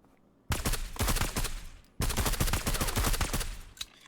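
Heavy gunfire from the video game Marauders comes in two sustained bursts of rapid, loud shots separated by a short pause.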